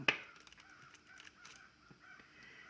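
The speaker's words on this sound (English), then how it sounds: "I don't know if you can hear those birds." Several birds call outside, with a loud caw near the start followed by scattered fainter chirps and calls against a quiet room background.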